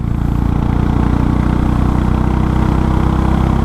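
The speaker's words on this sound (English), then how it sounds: "When I rev it from low revs," A Royal Enfield Meteor 350 with its catalytic converter removed from the exhaust rumbles close and loud at low revs with a steady thumping beat. There is no clear rise in revs and no talking.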